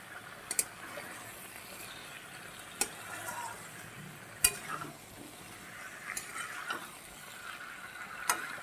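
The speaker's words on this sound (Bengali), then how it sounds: "এবার এঁচড় আলুটা দিয়ে আরও বেশ কিছুক্ষণ আমি কষাবো।" Jackfruit and potato pieces stir-fried slowly over low heat, a faint, steady sizzle with sparse sharp scrapes and clicks of a spatula against the pan, with no speech.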